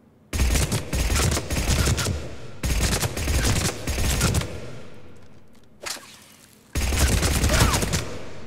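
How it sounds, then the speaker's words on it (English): Blood Pack Punisher SMG from Mass Effect 3 fires in dense rapid bursts and longer full-auto strings, loud and close, with brief pauses between volleys and one short isolated shot near the end. "I'll fire in burst, and I'll fire in full auto"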